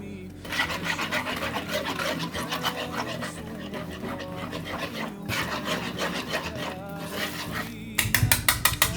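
Bread dough for stuffed Viennese rolls is mixed and kneaded by hand, giving continuous rhythmic rubbing, slapping and squishing close up, with a few knocks against the bowl near the end.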